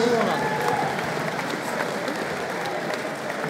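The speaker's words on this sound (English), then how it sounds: "Come let's give both these fans a round of applause, please." Applause from the crowd at a boxing event in Oldham, a dense continuous patter of many hands filling the space, with voices mixed in underneath.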